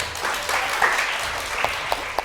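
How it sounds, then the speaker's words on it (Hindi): A studio audience on a Ramzan special television transmission claps for an elderly guest, a steady wash of applause with a few sharper claps standing out near the end. "तालियां नहीं होनी चाहिए अंकल के लिए"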